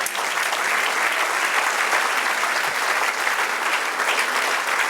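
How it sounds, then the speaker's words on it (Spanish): A church congregation applauds during a Spanish-language service, loud continuous clapping from many hands filling the hall evenly from start to finish, with no talking over it. "Denle un aplauso al Señor"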